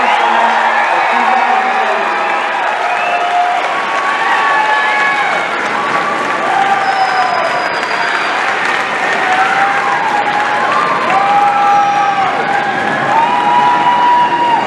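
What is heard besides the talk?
crowd applauding and cheering for graduates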